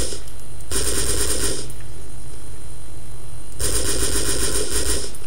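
Mounted cannon on a Bradley fighting vehicle fires in Conflict: Global Storm, two loud sustained bursts of rapid automatic gunfire separated by a pause, with no talk.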